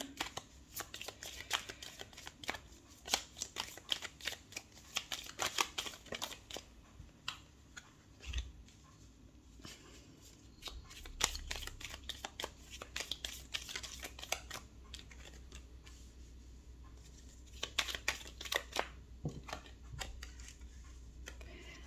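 Tarot cards being shuffled by hand, with quiet, repeated riffling bursts and soft slaps that come in irregular clusters throughout.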